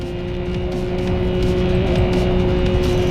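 Racing car engine in the mobile game Racing Master, a steady sustained drone with a fixed engine tone holding level through the stretch, staying close and loud without a distinct pass-by swell.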